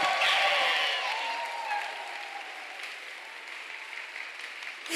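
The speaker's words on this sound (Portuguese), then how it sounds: "Pode aplaudir, pode aplaudir." Congregation applause during a Catholic sermon about faith and Mary, a dense wash of clapping strongest at the start and easing into softer, thinner clapping, with a faint voice trailing underneath.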